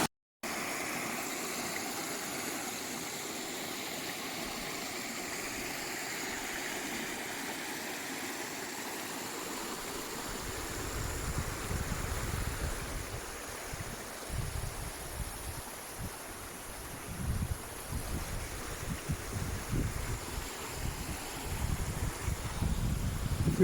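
A waterfall near a secluded lake gives off a steady, broad rushing roar throughout, while gusts of wind or low buffeting thumps break in irregularly during the second half.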